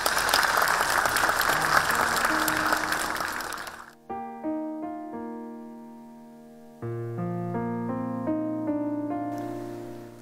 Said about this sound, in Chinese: 来我们掌声有请任老师。